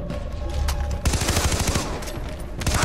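Gunfire in Far Cry 3, rapid automatic bursts rattling close and loud, building into a sustained fusillade after a quieter opening with scattered shots.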